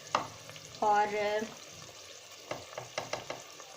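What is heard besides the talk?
spices and masala frying in a pan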